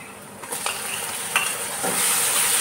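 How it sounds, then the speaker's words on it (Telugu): Cleaned prawns roasting over a high flame in a pan give a steady close sizzle, broken by a few clattering stirs and scrapes with nobody talking. "ఇవి యాడ్ చేసుకున్న తర్వాత ఒక్కసారి కొంచెం 1 మినిట్ హై ఫ్లేమ్లోనే వీటిని రోస్ట్ చేయండి"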